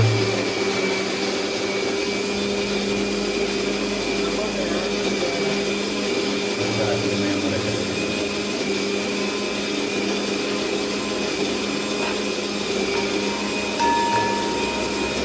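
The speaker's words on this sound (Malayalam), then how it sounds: "മിക്സിയിൽ" A kitchen mixer grinder grinding tomatoes whirs with a loud, steady motor drone throughout, with a few faint low bumps in the background.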